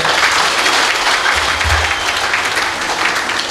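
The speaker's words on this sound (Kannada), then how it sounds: "ಅವರಿಗೆ ಎಲ್ಲರ ಪರವಾಗಿ ಮತ್ತೊಮ್ಮೆ ಜೋರಾಗಿ ಚಪ್ಪಾಳೆ" Steady, dense applause from a large crowd, continuous clapping filling the whole stretch without pause.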